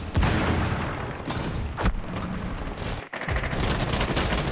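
A player sprays an automatic weapon in Rainbow Six Siege. The firing is loud, dense and continuous, with a few sharper cracks and a brief gap partway through before the burst picks up again.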